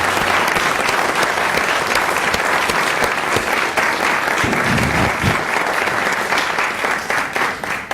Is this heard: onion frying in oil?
no